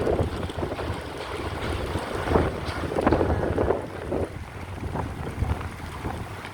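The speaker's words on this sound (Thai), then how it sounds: "ลมแรงมาก" Strong wind buffets a microphone in an outdoor parking lot during a storm, a loud continuous roaring rush with gusting surges and no talk.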